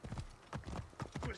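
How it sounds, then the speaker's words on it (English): A horse in the video game Assassin's Creed Origins gallops in quick, rhythmic bursts of hoof clip-clops, moderately close and fairly quiet, about three or four strides over a short moment. "Okay, horse. We need to go."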